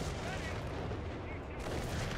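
Distant gunfire and rumbling long-range artillery in Company of Heroes 3 form a faint, continuous battlefield wash with low booms and crackle, under a quiet mix.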